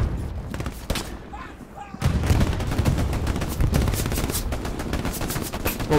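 Rapid automatic PPSh submachine gun bursts in the Hell Let Loose Stalingrad map, a dense crackle of gunfire that thins briefly before resuming in heavy sustained volleys, with chatter from players underneath.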